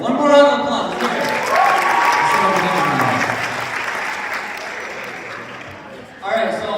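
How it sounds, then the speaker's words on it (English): A student culture night audience at Wayne State applauds steadily for about six seconds, a dense wash of clapping with voices mixed in, fading slightly before a short burst of talk at the end. "One more round of applause. Let's hear it."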